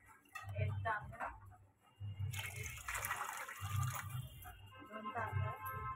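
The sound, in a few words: water being poured into pot for rice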